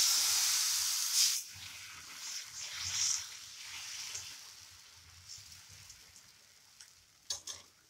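Dosa batter poured onto a hot tawa over a high flame: a steady, soft hiss and sizzle that swells briefly, then slowly fades and settles into a quieter crackle, with a few small clicks near the end.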